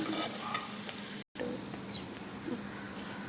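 Tomato masala being sautéed in a pan for crab roast, a continuous soft sizzle of frying with light stirring scrapes, fairly quiet and broken by a brief cut of silence.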